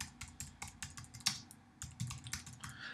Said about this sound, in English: What I do is I type in this box, facilities manager.